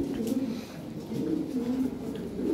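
Lahore pigeons give steady, low throaty coos in a loose rolling rhythm, close and continuous over faint background noise.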